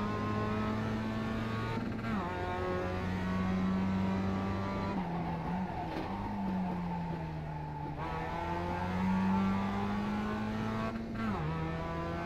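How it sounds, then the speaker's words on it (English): A Mazda MX-5 race car in iRacing at Phoenix Road Course holds a steady high-revving engine drone that bounces off the rev limiter, with pitch dips at gear changes, continuous and close. "Hitting red rev limiter there."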